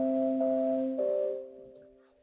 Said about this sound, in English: I found this patch actually in Logic's quick sampler called Broken Music